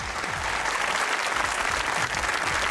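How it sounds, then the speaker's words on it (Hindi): An audience at a comedy show breaks into warm, dense applause that holds steady throughout, many hands clapping at once. "अपने लिए बहुत तालियां बजाइए।"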